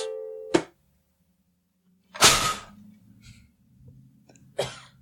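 A single sharp sneeze bursts out loudly, followed by a faint breath and a few small mouth sounds in a quiet room.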